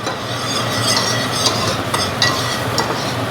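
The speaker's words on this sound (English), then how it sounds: "I'm just going to whisk that around a little bit." Whisk stirring mushroom-infused broth in a pan, a steady wet swishing and light sizzle with occasional clinks of metal against the pan, close and continuous, no talk.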